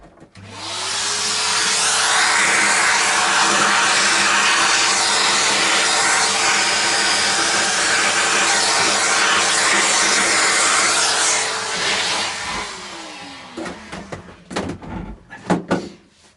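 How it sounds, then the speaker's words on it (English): A vacuum cleaner runs loud and steady for about twelve seconds in a workshop where a vintage V6 guitar pickup cavity is being rewired, then spins down, followed by a few knocks and clatters. "Let's get the vacuum on it a minute."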